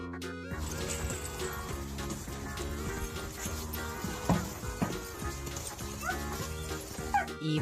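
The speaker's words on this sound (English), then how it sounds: "D for dog." A dog barks and yips over busy, continuous background music of a children's phonics song, the barks short and scattered rather than rhythmic.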